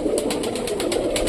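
Fancy domestic pigeons, including roller pigeons, coo at a home pigeon loft. Soft, throaty calls pulse in a quick, regular rhythm at close range, with no speech.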